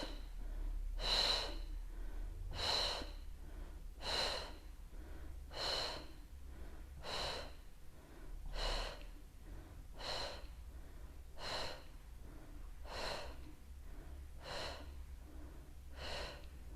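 A pregnant woman exercising her legs with a resistance band breathes heavily in a slow, even rhythm, about eleven sharp, audible breaths spaced a second and a half apart, close and fairly quiet, with no talking.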